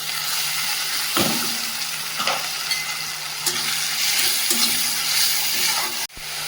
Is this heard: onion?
yes